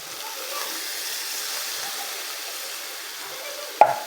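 Mushrooms sizzle steadily in a frying pan of spaghetti sauce, a soft, even hiss with faint stirring scrapes, ending in one sharp utensil knock against the pan.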